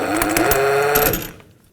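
Mechanical whirring and ratcheting from a wrench loosening the jam nut on the inner tie rod of a 2007-2017 Jeep Compass, a steady close buzz with a faint tonal whine that stops abruptly near the end.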